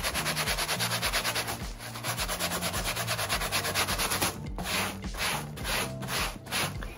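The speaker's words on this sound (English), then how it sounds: "What you're gonna do is you're just gonna dab your solution and just start scrubbing." Brush scrubbing Air Jordan 4 Off-White Sail sneakers with cleaning solution: close, rhythmic back-and-forth bristle rasping in quick repeated strokes, briefly pausing and then resuming, with no talk.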